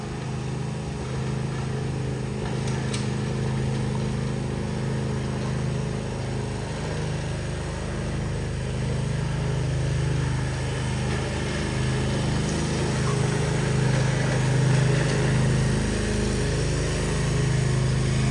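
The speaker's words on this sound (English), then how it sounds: "Here comes John Wayne with his smoking lawnmower." A smoking lawnmower engine drones steadily throughout, a continuous low rumble with a faint higher whine, fairly close and unchanging, with no talking.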